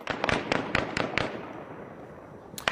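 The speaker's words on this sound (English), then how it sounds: "gunfire could be heard as assailants storming the nation's legislature in Tehran" A rapid series of sharp gunshots during the armed attack on Iran's parliament in Tehran, about six cracks in quick succession, then a pause and one more distant burst.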